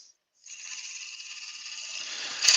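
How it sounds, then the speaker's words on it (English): Laburnum wood being cut on a lathe with a 3/8 bowl gouge, a steady high hissing, shaving sound that starts after a brief pause and builds louder toward the end, with no talking. "I'll start off with me bull gouge, 3/8 bull gouge, just to start doing some shaping."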